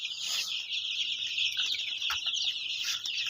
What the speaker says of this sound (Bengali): এই হলো আমার টাইগার মুরগির বাচ্চা।